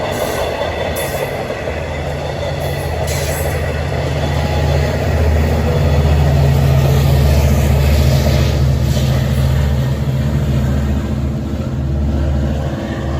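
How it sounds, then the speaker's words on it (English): An EMD diesel locomotive hauls train 4705, an equipment move bound for Long Island City, past Forest Hills on a warm, muggy evening: a steady, loud, close engine drone with rail rumble that swells midway and holds through the pass. "Filling the warm, muggy air with EMD sound is train 4705, an equipment move headed for Long Island City"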